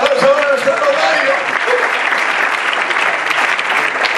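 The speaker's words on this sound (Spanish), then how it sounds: "¡Fuerte el aplauso para nuestro notario!" Loud, dense applause from a gala audience at a media awards ceremony, honoring a notary, filling the whole stretch with steady clapping and crowd noise.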